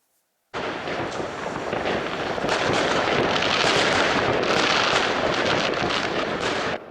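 New Year's midnight fireworks over Police, Poland: a dense, continuous barrage of overlapping bangs and crackles starts abruptly after silence and holds loud and busy to the end, with no talking.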